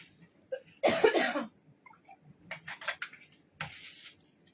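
A woman with a badly hoarse throat coughs close to the microphone in one strong burst, then gives a run of short, drier coughs and throat clearing in a quiet room during a boutique livestream.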